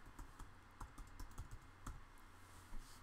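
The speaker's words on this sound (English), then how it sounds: "if I begin typing, the letters," Typing on a computer keyboard in a font-formatting document window, a steady run of close, quiet key clicks with uneven rhythm and no talk.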